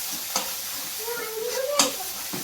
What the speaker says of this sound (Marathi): त्याच्यासाठी मस्त मसाला भाजून घेते.